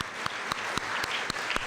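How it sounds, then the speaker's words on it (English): An audience claps at the Washington Metropolitan Basketball Hall of Fame ceremony, a fairly even patter of hands with a few sharper individual claps standing out at regular intervals, without voices. "So let's give them a big round of applause."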